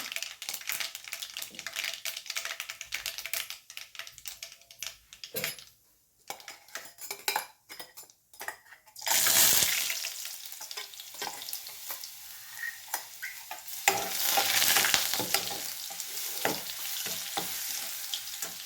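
Ginger garlic paste fries in hot oil in a kadai after mustard seeds and curry leaves, with a steady crackling sizzle, a brief quiet gap, then a louder burst of spluttering, and a spoon stirring and scraping against the metal pan.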